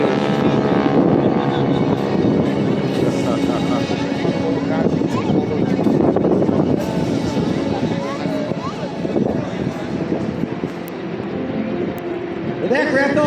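Sky Typers propeller planes flying low over Jones Beach at an air show, a loud continuous droning engine roar that swells and shifts as they pass, with people talking over it.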